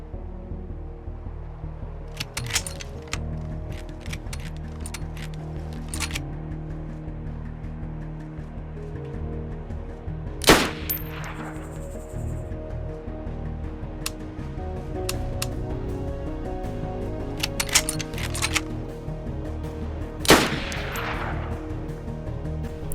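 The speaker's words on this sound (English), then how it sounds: "what you just saw there was manual cycling for the Mosin" A Mosin bolt-action rifle in the game DayZ is fired and cycled by hand: a few sharp, loud reports spaced roughly ten seconds apart, each followed by bursts of clicking, clacking bolt-working sounds.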